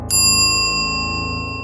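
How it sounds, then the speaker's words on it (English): A single bell struck once, its bright ringing tone hanging and slowly fading over a steady hum, loud and close with no voices. "the ringing of the bell"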